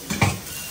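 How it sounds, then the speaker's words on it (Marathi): Dishes being scrubbed and washed make one short clatter of pots and utensils, a brief close knock and scrape that quickly dies into quiet room tone. "मला भांडी घासताना हे लोकांना दाखव मी भांडी घासतोय"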